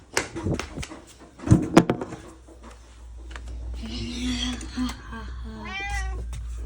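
Knocks and shuffling open the clip, then a cat meows several times nearby with rising, wavering cries; a voice speaks in Turkish in between.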